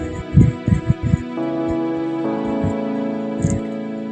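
A village water pump machine starts up with several heavy irregular thuds, then settles into a steady, loud droning hum with a faint knock near the end.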